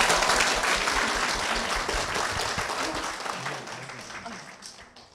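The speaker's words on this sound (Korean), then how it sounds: "한일순 권사님 박수로 모시겠습니다." Congregation applause in a Korean church, welcoming a senior deaconess forward during a testimony program; steady dense clapping that fades toward the end, with some talk in the background.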